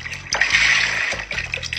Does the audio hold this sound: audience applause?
no